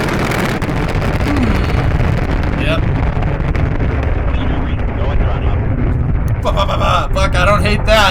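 Proton rocket launch roars as a continuous, broad rumble with wind buffeting, while excited voices talk and cheer over it throughout.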